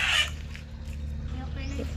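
Laying hens cluck in a noisy coop on a farm, their calls blending with a steady low hum and a brief louder burst at the start.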